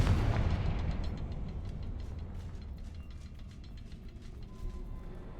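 A Confringo fire spell blasts in a wizard video game, a loud booming burst up front that rolls into a long rumbling, crackling decay.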